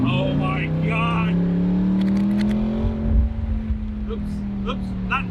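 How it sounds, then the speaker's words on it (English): Corvette C8 with Soul exhaust accelerating in sport mode, a loud rising engine drone climbing in pitch and then holding steady, with a burst of rumble partway through and a voice faintly underneath. "This exhaust sounds absolutely awesome."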